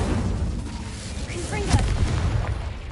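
Fiery burst from an Incendio fire spell cast in a Harry Potter video game, a loud roaring whoosh with a boom near the middle amid dense game noise, with a voice speaking over it.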